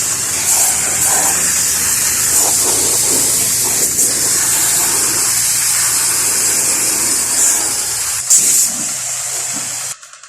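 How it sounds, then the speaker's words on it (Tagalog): Pressure washer spraying water to clean a split-type outdoor aircon unit: a steady, loud hissing spray running continuously and close, cutting briefly near the end. "kailangan ng pressure washer mga ka-idol, kailangan ng pressurize para matanggal yung dumi ng aircon"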